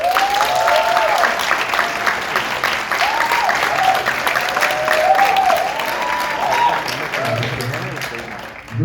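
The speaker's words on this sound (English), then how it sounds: "By applause, I just want you to tell me, of Infinity War and Endgame, who liked Infinity War better than Endgame?" A theater audience at a Paris Q&A with the film's directors applauds to vote for Infinity War. The clapping is loud and dense, with crowd noise and some cheering, and it keeps a steady roar throughout while a few voices whoop over it.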